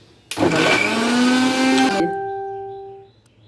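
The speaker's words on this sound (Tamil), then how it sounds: "இது காணாது இன்னும் ஒரு தடவை கிரைண்ட் பண்ணிக்கோங்க" A mixer grinder churns tomato chutney in a loud, steady whir that starts abruptly, holds for under two seconds, then cuts off, leaving a fading tonal whine as the motor spins down.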